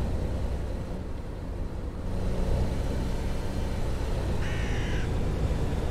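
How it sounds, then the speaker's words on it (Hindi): A crow caws a few times in Fernbus Coach Simulator over a steady low coach engine rumble, clear and fairly close. "ओ कौआ"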